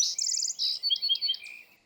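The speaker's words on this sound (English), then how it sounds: "Inevitable song sparrow." A song sparrow in a backyard sings one close, clear phrase: a rapid run of repeated buzzy notes followed by a jumble of trills and chirps, loud and alone, fading away at the end.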